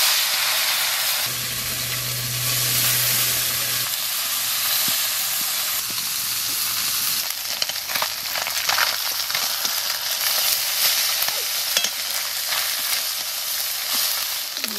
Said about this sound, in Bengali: তেল গরম হয়ে গেছে এখন মাছ দিয়ে দেবো